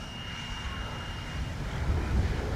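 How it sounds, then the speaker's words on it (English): A Freewing A-6 Intruder RC model jet takes off in a gusty crosswind, its steady ducted-fan whine building gradually louder over a few seconds with no talking. "we're going to try another takeoff again, and not such an abrupt takeoff"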